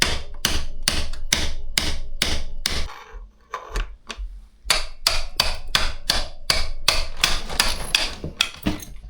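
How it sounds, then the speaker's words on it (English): Sharp, rapid hammer blows knock a star nut out of an e-bike fork, a dense run of metallic strikes that breaks off briefly in the middle and then resumes at full pace, close and loud. "Just keep hammering it out until this pops"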